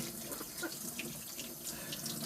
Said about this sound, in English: I put the water on, let it run